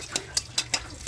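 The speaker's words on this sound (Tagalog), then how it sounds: "Yan, isusutain natin yung sibuyas" Onion sautéing in a pan for a Filipino vegetable dish, heard as a quiet run of regular stirring scrapes, about five evenly spaced strokes over a faint background sizzle.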